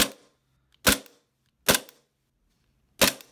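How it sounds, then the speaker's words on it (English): A double barrel G18C pistol being dry fired, four sharp, separate snapping clicks spaced roughly a second apart, close and loud with silence between them. "I can dry fire a couple shots for you guys"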